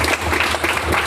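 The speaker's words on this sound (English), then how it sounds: "so another round of applause" An audience at an education technology meetup gives a round of applause, dense, even clapping from many hands that fills the whole second, loud and steady without talk.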